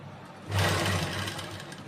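A sewing machine stitches cord piping onto fabric in a short, close burst of rapid mechanical whirring and needle chatter that starts abruptly and runs steadily to the end.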